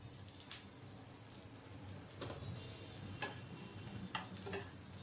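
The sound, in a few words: onion frying in oil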